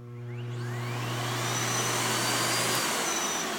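Miele Cat Dog U1 upright vacuum cleaner running, its motor spinning up with a rising whine into a steady loud roar and airflow hiss, close by with no talking.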